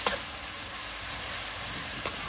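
Chopped onions fry in oil while being stirred, a soft steady sizzle close by with two brief louder scrapes of the spoon near the start and end.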